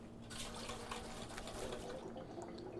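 Shaken sparkling wine fizzes as CO2 bubbles rise through it, a steady close hiss of tiny bubbles with soft crackles and gurgles throughout, no voices.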